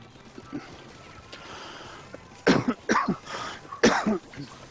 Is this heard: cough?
yes